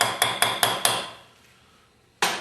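Metal hammer striking a 1/4 inch Allen socket to seat it on an older Meyer E-60 snowplow pump: four quick sharp taps in a row, a pause, then one more strike, close and ringing.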